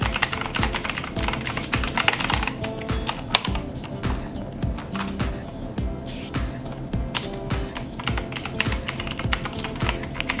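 Keys on a Maxtill G610K mechanical keyboard clack in quick, irregular bursts, close and crisp, with a few louder strikes and no talking.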